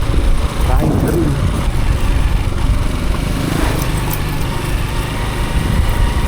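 A TMX 125 Alpha motorcycle engine drones steadily while riding on a bumpy road, loud and close, with wind rumble and a voice talking over it.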